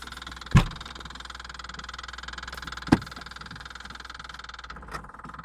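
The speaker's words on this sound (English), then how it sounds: "You probably hear the note change when I pull on the primer." A Jabiru aircraft engine fitted with Rotec liquid-cooled heads runs at a fast, rhythmic idle with a rough pulsing tone, its note shifting as the primer is pulled, broken by a couple of sharp knocks.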